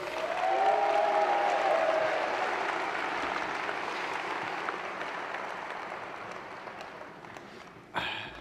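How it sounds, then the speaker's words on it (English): Broad, sustained applause from a large audience at a college commencement ceremony, steady wash of clapping that gradually fades over several seconds before a brief sharp noise at the end. "please give them one more welcome and a round of applause"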